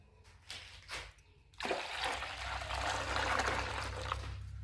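Water pours into a mixer jar of thick homemade sherbet, a soft, faint rushing splash that follows a few brief clinks and handling noises and carries on steadily to the end.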